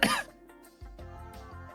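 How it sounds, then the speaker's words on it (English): A single short cough or throat-clearing burst right at the start, close and fairly loud, followed by quieter low tones and background sound. "all I wanted you to do is just make a cough sound."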